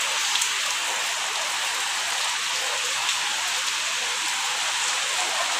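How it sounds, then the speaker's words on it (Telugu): Steady rain pours outdoors near trees, a dense, even hiss of drops striking surfaces that carries unbroken from start to finish, moderately loud and with no voices over it. "వాన పడుతుంది, మేమైతే బయటకు వచ్చేసి తీస్తున్నాము."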